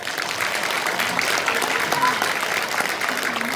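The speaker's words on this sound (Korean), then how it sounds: "지금 박수를 치고 계시지만" Audience applause fills a municipal hall during a book concert in Yeongju, a dense, steady clapping from a crowd that continues evenly throughout without any voices rising above it.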